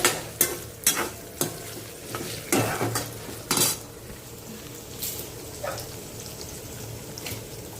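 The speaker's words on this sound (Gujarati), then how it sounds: "હવે આપણે આને કરીશું ફેરવીશું. આવી રીતે ગાઈસ." A spoon stirs food frying in a little oil in a pan, several sharp scraping knocks early on over a soft steady sizzle, then quieter occasional stirs near the end.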